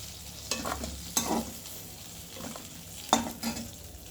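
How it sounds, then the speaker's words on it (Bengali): Chopped garlic fries in mustard oil in a kadai wok, a faint sizzle broken by a few sharp scraping, clattering stirs of a spatula at irregular moments, quiet and with no talking. "এবার কড়াইতে দিয়ে দিয়েছি আমি আর একটু পরিমাণ সর্ষের তেল আর বেশ খানিকটা রসুন কুচি।"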